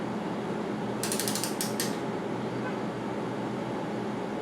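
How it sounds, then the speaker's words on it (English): A torque wrench clicks in a quick ratcheting burst while tightening a road bicycle drivetrain bolt toward 120 inch-pounds, a short run of close mechanical clicks over steady background hiss. "This still needs a little bit of tightening before I reach that 120 inch pounds of torque"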